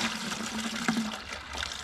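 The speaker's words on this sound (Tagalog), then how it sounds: "Diyan ko ibubuhos yung mga tubig niya." Water is poured into a bucket, making a soft, steady trickle and splash at moderate distance that lasts throughout, with some faint background noise and no talk.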